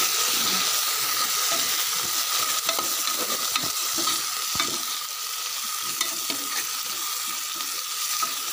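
Fresh mint goes into a hot pan for mutton gravy, giving a steady close sizzling hiss broken by repeated stirring scrapes, with no one talking.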